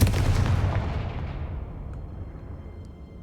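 A Confringo fire spell bursts in Hogwarts Legacy, a loud booming explosion at the start whose rumbling tail slowly fades over a few seconds, with no talk over it.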